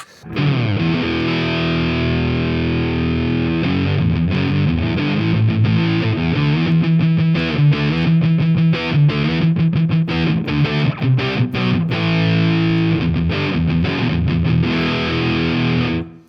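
Electric guitar played through a heavy fuzz pedal, dense and dark with thick distortion, strummed chords and riffs ringing continuously and loud.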